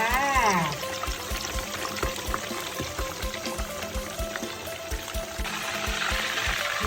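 Fatty beef fries in hot oil, giving a steady, close sizzle and crackle that continues throughout.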